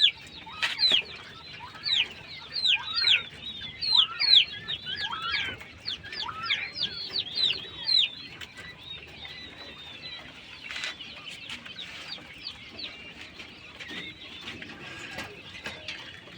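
King quails call in a bird pen with rapid, high, chirping trills in repeated bursts, several birds overlapping near and loud, over a faint background of rustling and soft clucks.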